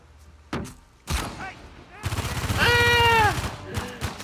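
Sniper rifle shots in a video game, a few sharp, loud single bangs spaced apart, followed by a raised voice shouting over the noise.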